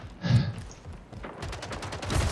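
Rapid gunfire from the arena shooter video game Splitgate, a short burst of shots crackling loudly up close amid game effects, with no talking.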